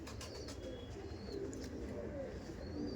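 A pair of Andhra pigeons, a Kalshira and a Phulshira, coo low and continuously at close range among other birds in a loft, with occasional thin chirps over the steady murmur.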